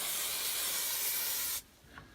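Spray glue hisses steadily from an aerosol can onto cut insulation panels in a Ford Transit camper van conversion, a loud continuous spray lasting about a second and a half before stopping abruptly, with only faint rustling after.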